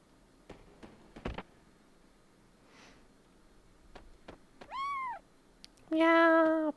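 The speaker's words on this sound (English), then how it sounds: "poor kitty left alone" A cat meows in the video game Chrono Cross, with one rising and falling call and then a louder, longer meow a moment later, among a few soft clicks and game sounds.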